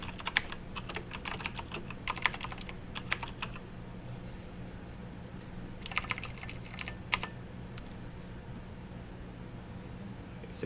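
Fingers type on a computer keyboard in short bursts of rapid clicking keystrokes, with pauses between, over a quiet room hum; close and clear, with no talking.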